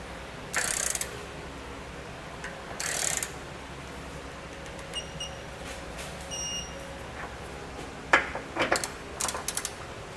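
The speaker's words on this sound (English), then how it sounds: "go back with our torque wrench and torque them to the specifications outlined in our instructions" A torque wrench tightens trailer hitch bolts on a 2019 Honda Passport, with short bursts of metallic ratcheting, a few faint clicks and clinks, and quiet gaps between them.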